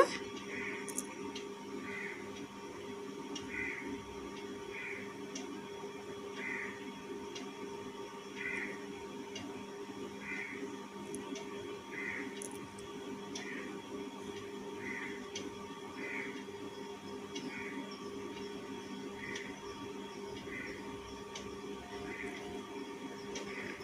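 A sewing machine stitches lining cloth around the neck of a designer cotton kurti, its steady mechanical whirr and repeating rhythmic ticks running continuously at close range with no talk.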